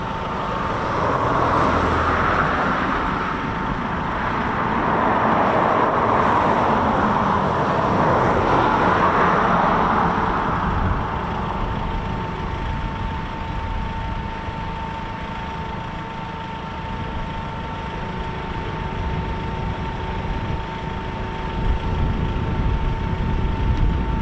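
Eurofighter Typhoon FGR4 engine spooling up during start-up at RAF Coningsby, heard from a distance as a broad rising whine and rumble that holds a steady tone, with no talking.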